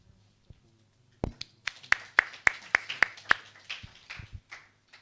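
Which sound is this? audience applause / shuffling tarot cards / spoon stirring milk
audience applause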